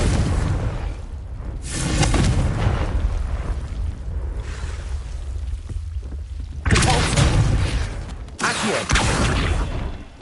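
Booming bursts of the Confringo blasting spell in a Harry Potter game arrive as several loud, rumbling whooshes, with steady ambient game noise between the blasts.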